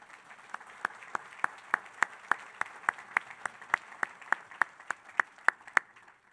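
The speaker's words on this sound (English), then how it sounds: "If I can have a round of applause for those that joined us to help sign this event." A crowd at a civic center event claps in a steady round of applause, with sharp, evenly spaced claps ringing out over a softer bed of clapping for several seconds.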